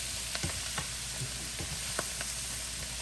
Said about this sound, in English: we just layering in our onions and the cabbage